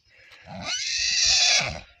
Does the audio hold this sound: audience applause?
no